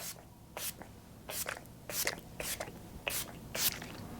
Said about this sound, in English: I'm just using the Scandinavia, the makeup finishing spray